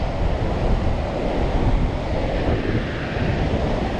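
Ocean surf on Durban beach in stormy, unfavorable weather, a constant loud roar of breaking waves mixed with heavy wind buffeting the microphone.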